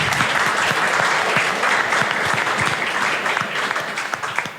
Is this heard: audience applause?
yes